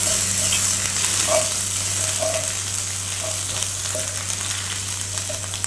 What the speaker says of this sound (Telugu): కొద్దిగా అల్లం వెల్లుల్లి పేస్ట్ పచ్చివాసన పోయే వరకు వేయించాలి.